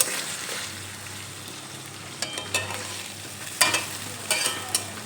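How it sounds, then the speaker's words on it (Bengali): Spices being stirred into potatoes in a frying pan over medium gas for an omelette curry: a steady low sizzle with a few scraping spatula strokes near the end. "এখানে দেখো কিছুক্ষণ নেড়ে চেড়ে নিয়ে মশলাগুলো খুব ভালোভাবে আলুর সঙ্গে মিশিয়ে"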